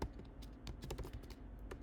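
Fingers typing a prompt on a computer keyboard in VS Code, a fast, quiet run of close key clicks over low room hum.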